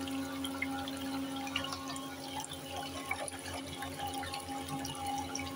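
A small speedboat motor runs submerged in water with washing-up liquid added, giving a steady tonal hum and bubbling, watery churn at revs turned up, continuous and close with no talk.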